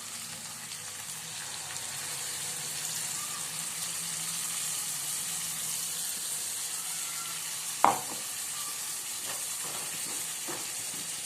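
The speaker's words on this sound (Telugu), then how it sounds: "ఇది నూనెలో కొంచెం గోలాల, పచ్చివాసన పోయేదాకా." Onion and tomato paste with a little turmeric frying in oil, a soft, steady hiss and sizzle with a single sharp clink of a spoon against the pan partway through, no speech.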